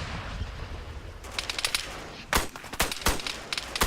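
Short bursts of rifle fire from an MK16 in a video game, several sharp cracks in quick clusters, fairly loud against a steady background hiss.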